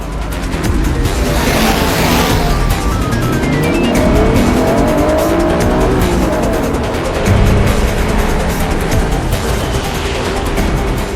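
Race cars roar past with engines revving and tires squealing, loud and continuous, with rising and falling engine tones throughout.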